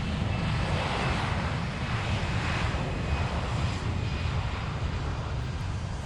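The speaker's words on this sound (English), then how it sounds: "Landing gear is up, we're taking off." A propeller airplane takes off in the video game Besiege, a steady, loud engine drone with broad wind-like roar holding evenly throughout, no voices over it.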